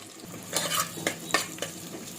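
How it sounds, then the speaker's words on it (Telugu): Onions frying in hot oil in a pan for egg biryani, with a steady sizzle under several sharp scraping strokes of a spoon stirring them, close and fairly quiet. "ఇప్పుడు ఆనియన్స్ ఫ్రై అయితే చేస్తుంది"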